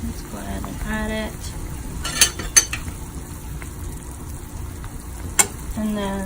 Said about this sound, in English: now we're gonna add the onions